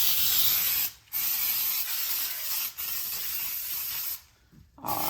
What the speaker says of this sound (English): first thing you do is you spray it with Pam for bacon